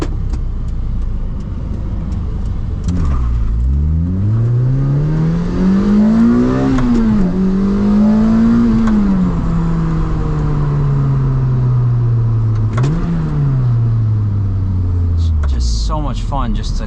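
A Lotus Elise sports car accelerates from inside the cabin, its engine revving up in rising sweeps with brief dips at gear changes, loud and close over steady road rumble.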